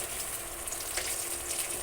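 Pieces of katla fish fry in hot oil in a pan, a steady, bright sizzle with crackling spatter, close and alone without talk.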